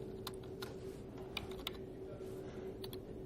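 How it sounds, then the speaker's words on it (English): Faint keystrokes on a computer keyboard as a name is typed, a quick, irregular run of light clicks over a quiet background hum. "I'm going to type in his name."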